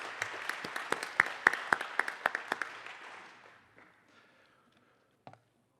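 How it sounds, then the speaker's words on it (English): Audience at an annual meeting of a community lending organization claps in a brief, fairly quiet round of applause that starts with sharp distinct claps and thins out within a few seconds, followed by a single stray tap. "big round of applause for Mike."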